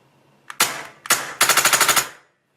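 Tippmann Phenom paintball marker firing on full auto, two short loud bursts followed by a longer rapid string of about nine evenly spaced shots, close and sharp, then silence.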